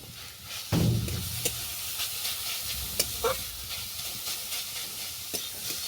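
Grated carrots fry in ghee in a pan, giving a soft steady sizzle with a heavier stirring clatter near the start and a few light scrapes and taps after.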